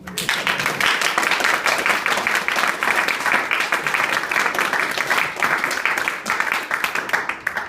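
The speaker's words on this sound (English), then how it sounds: "Did I hear a round of applause?" A crowd at a hospital funding announcement for Latrobe Regional Hospital bursts into loud, sustained applause, thick overlapping claps at an even level throughout.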